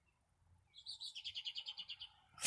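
Birds call outdoors in a residential neighborhood, with one bird giving a rapid, evenly spaced series of about a dozen bright chirps at moderate distance over a quiet background.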